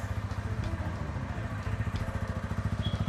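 A TVS Ronin motorcycle engine, started with a push button, settles into a steady idle, giving a close, even, low thumping rhythm with no voices.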